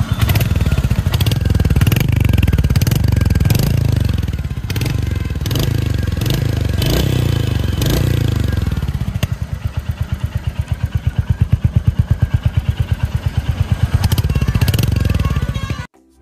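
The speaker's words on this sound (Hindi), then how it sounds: "आइए एक बार इसका इंजन का आवाज़" A Royal Enfield Hunter 350 motorcycle engine runs close up, loud and steady at idle, then settles into a faster, pulsing exhaust beat in the second half before cutting off abruptly at the end.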